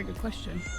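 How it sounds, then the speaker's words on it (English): A cat meows briefly near the outdoor ancient site of the Acropolis in Athens, the call rising through a short stretch while a person speaks over it. "that was a cat."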